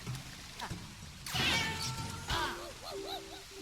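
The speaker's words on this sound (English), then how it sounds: "Stupid meow noise every time." A cartoonish cat meow sound effect from the video game Yooka-Laylee and the Impossible Lair, short wavering mews close in the mix amid other game sounds.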